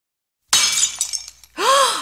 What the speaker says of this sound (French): J'ai cassé le verre.